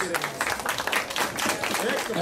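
A crowd claps for two young kickboxers at the end of a kickboxing bout. The applause is a dense, steady wash, and a voice talks over it throughout.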